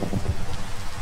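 Steady rain patters in the Minecraft video game, a soft even hiss with no voices and no pauses.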